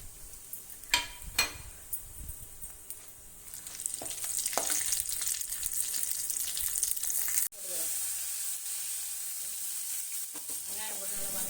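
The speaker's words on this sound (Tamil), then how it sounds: "வெங்காயத்தை நல்லா வதக்கிங்க" Onions sauté in hot oil with fennel powder, cinnamon and cloves for a Tamil mutton kola urundai kuzhambu, giving a steady close sizzle with a few clinks of a spoon against the pan near the start.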